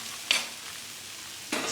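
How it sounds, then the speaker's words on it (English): Rice is stirred in a pan as stock, simply boiling water, is poured in, giving two short scraping, sizzling bursts over a steady background hiss. "And I'll stir as I pour in the stock."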